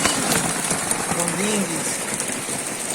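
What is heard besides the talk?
hailstorm hitting a boat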